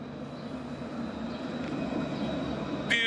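A tram rolls past at a distance, a steady low rumbling drone that swells slightly, ending in a brief high metallic squeal.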